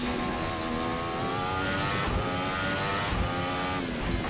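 An RSS Formula Hybrid 2018 race car in a video game accelerating hard, its high-pitched engine whine rising steadily through the revs with brief dips at gear changes, loud and close with no talk.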